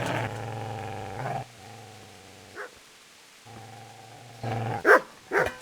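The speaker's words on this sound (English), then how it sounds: "Get away, you mutt!" A dog in the medieval game Kingdom Come: Deliverance II snarls and barks over a steady low background score, with a growl near the start and a few sharp, loud barks toward the end.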